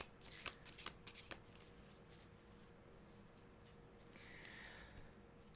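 Tarot cards are shuffled by hand in quick, soft riffling bursts with a few sharper snaps early on, close but quiet.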